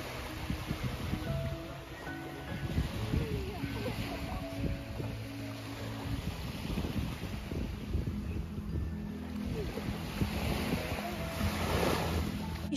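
Ocean waves wash onto a Havelock Island beach in the Andamans, a continuous surf rush with wind buffeting the microphone, swelling toward the end, with faint voices underneath.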